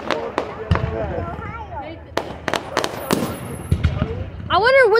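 Fireworks at a 4th of July show burst in a rapid series of sharp booms and crackles, some near and loud, others farther off, while people talk and exclaim nearby and a whistling shell rises at the end.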